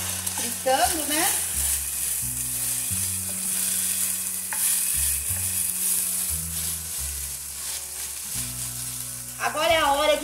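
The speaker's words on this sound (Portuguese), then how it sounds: "eu deixei a carne dar uma cozidinha, agora ela tá fritando" Beef sizzles steadily in a hot pan with a continuous frying crackle under gentle background music.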